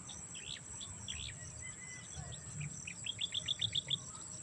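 Birds chirp and tweet outdoors at a distance, ending in a quick run of repeated bright notes over faint insect buzz and low rumble.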